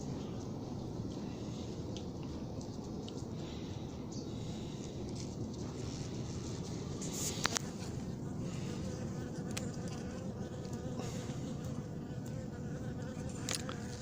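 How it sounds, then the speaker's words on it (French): Hornets buzz around a trap bottle at an apiary, their steady, faint droning hum running throughout with a few brief louder passes close by. "Le frelon s'approche de la bouteille, il marche."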